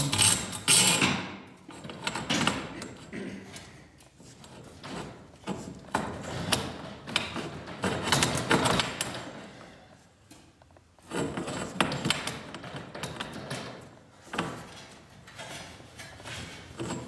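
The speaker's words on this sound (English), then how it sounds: "On with the new. Putting the new spring in." New torsion spring being fitted during a broken garage door spring repair, with continuous close scraping, rubbing and metallic clanking of hardware and tools in uneven bursts, moderately loud, with no speech.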